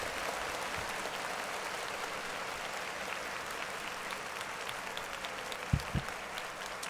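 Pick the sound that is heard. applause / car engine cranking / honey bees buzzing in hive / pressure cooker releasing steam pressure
applause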